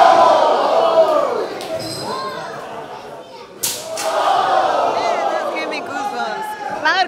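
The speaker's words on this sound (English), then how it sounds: "The crowd is just loving the destruction." Lucha libre wrestling crowd at a Loko Wrestling show cheering and shouting loudly throughout, with a sharp slap-like impact midway and continuous roaring voices.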